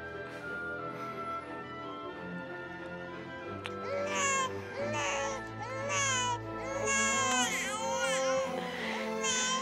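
An infant cries in rising, wailing bursts that grow louder partway through, close and sustained over a steady background, with no clear talking.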